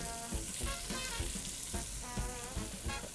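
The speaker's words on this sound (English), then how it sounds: "Put in a few onions. We'll let them saute a little bit." Julienned onions sauté in a pan for green beans, a steady close sizzle with light intermittent stirring clicks and no talk.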